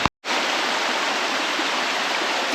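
Creek water rushes steadily at a creek crossing on a hiking trail, a dense, continuous broadband wash close by that starts after a brief moment of silence and carries on unbroken.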